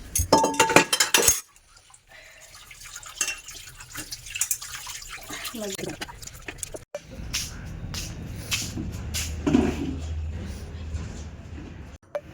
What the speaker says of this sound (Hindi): ये देखो बर्तन साफ कर दूँ।